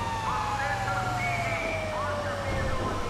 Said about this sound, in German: Die Sirene ist an.